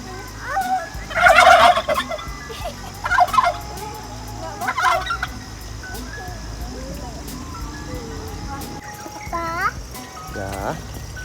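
A turkey gobbles in several loud, close bursts of rapid rattling calls, spaced a second or two apart, while people chatter nearby and a faint background hum continues.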